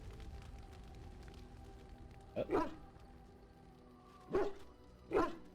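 A dog in Dragon Age: Origins gives three short yipping barks, clear and fairly close, spaced a couple of seconds apart over a quiet background hum.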